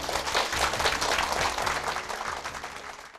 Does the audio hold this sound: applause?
yes